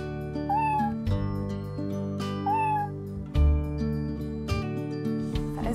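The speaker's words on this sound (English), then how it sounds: "a special corner for my kitten" A kitten gives two clear, drawn-out meows a couple of seconds apart, close and distinct over a steady tonal musical background.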